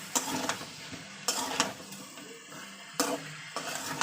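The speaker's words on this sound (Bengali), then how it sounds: "তো এই মশলার সঙ্গে আলুটা আমি ভালো করে কষে নিচ্ছি" Potatoes being sautéed with spices in a pan, soft sizzling under repeated scraping strokes of a spatula against the pan in short bursts.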